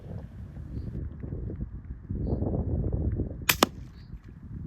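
A single sharp rifle shot cracks out at a coypu near a riverbank, loud and brief, over low outdoor rumble and wind noise.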